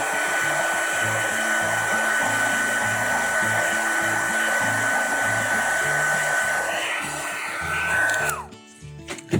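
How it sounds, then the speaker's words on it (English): A handheld hair dryer blows steadily on wet painted paper, a loud continuous whooshing hum with a faint whine that runs for several seconds before the motor cuts off near the end. "I'm going to go ahead and use my hair dryer."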